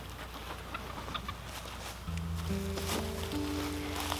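Chickens in a farm coop cluck softly in the background under steady shuffling and rustling noise, with a sustained tonal hum entering partway through.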